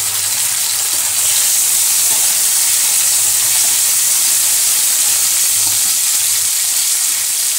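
Thin tomato slices sizzling in a pan with spices, a loud, steady frying hiss that runs unbroken throughout with no voices.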